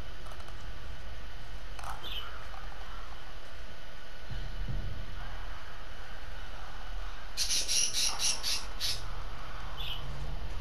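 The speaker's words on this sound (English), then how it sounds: "That's the birds freaking out." Birds in The Last of Us video game squawk and flutter in a few brief, faint bursts over a steady background hum, rising in a short cluster near the end.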